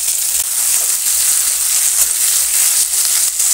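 Chopped onions sizzling in hot oil with cumin and green chillies for a Bengali bata fish kalia, a steady close hiss running unbroken throughout.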